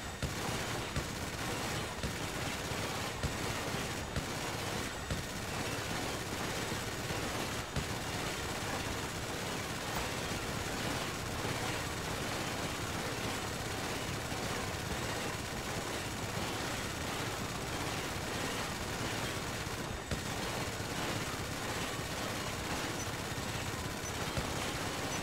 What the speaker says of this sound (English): We're doing the minigun challenge in the shooting range on GTA.